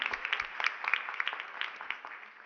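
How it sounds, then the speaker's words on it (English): An audience at a Zoroastrian community gathering in North America gives a round of applause, a brief, thin patter of many hands clapping, fairly faint and fading out within a couple of seconds. "So if we can all give him a round of applause"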